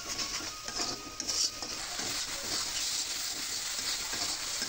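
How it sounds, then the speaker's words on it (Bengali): Spices, chili powder and salt being stirred and sautéed in a pan for a soybean, potato and pointed gourd curry, giving a steady close scraping and sizzling with light utensil clinks throughout. "এখন কিছুক্ষণ কষিয়ে নেব।"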